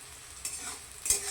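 Onions frying in a pan while cooking mutton, a soft, steady sizzle close by with a couple of brief stirring scrapes.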